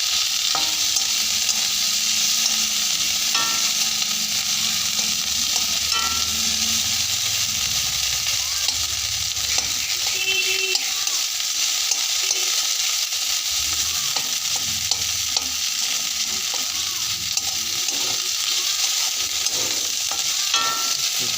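Onions sizzle loudly and continuously in a hot pan for pasta, with a spatula scraping and stirring through them now and then.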